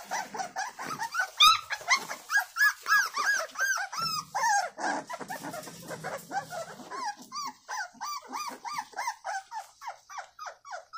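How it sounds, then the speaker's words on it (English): Several yard dogs growl and whimper continuously, with nasal whines and rumbling growls rising and falling at close range, loud and busy throughout with no talking. "Them really should be some good dogs, bro."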